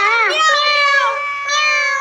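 A cat meows in one long, drawn-out, wavering call lasting about two seconds, loud and close, with no other sounds around it.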